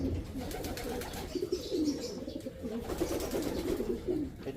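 A racing pigeon coos in soft, rolling, repeated phrases, steady and fairly close, with no talk over it.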